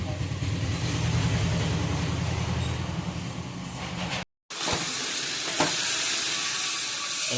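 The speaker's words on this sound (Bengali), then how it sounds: "মাংস ভাজা চলছে" Steady sizzling and crackling of chicken frying in a pan, loud and continuous, with a brief silent gap and a few stirring clanks afterward.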